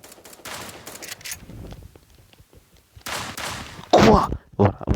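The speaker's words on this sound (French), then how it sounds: "il a tiré derrière le mur" Gunfire in a one-on-one shooter game duel, with scattered shots early on and a loud burst of rapid fire near the end, close and sharp, without talk.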